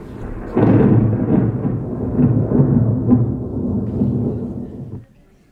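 A deep rolling rumble of thunder swells in abruptly, grumbling loudly for several seconds before cutting off, with no voices.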